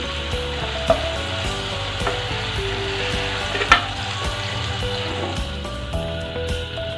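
Vegetables sizzle and fry in a pan with coriander powder and salt, steady crackling broken by a few sharp scrapes and clacks of a spatula stirring, close and fairly loud with faint background music.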